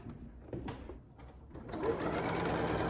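A Janome Memory Craft MC9450 sewing machine stitches a straight line across a zippered pouch, its steady whirring motor building to a continuous, close hum after a few brief starts and taps.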